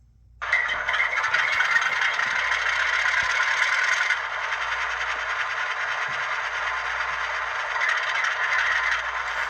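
Bowser Alco RS3 model locomotive powering back up, a sudden onset of steady rattling, scraping mechanical noise that holds fairly loud and even, easing slightly partway before continuing to the end.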